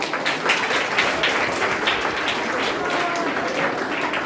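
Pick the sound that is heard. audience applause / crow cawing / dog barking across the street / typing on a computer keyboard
audience applause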